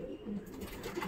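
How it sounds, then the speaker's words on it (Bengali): Male pigeons in cages giving brief low coos, close and soft, over a steady background murmur with no talk. "এদিকেও নর পায়রা কিছু ছাড়বো"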